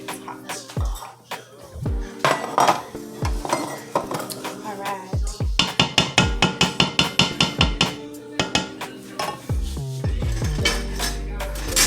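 Mac and cheese is spooned into a metal muffin pan with a wooden spoon. Repeated clinks and knocks come close and clear, with a rapid run of taps in the middle.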